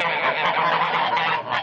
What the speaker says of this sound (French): Toutes blanches, les yeux bleus et les pattes orangées, les voici les oies de Touraine